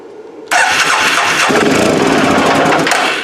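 An Arctic Cat 500 ATV engine cranks and catches abruptly, then runs loud and steady at a rough, rumbling idle, close up and without any voices.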